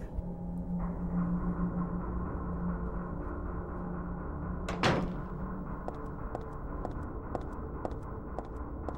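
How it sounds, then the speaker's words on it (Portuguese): A door in the abandoned building of Silent Hill 3 gives a single sharp thud or slam midway, over a steady low hum and ambient game drone, followed by faint rhythmic ticking. "Eu ouvi um barulho de porta."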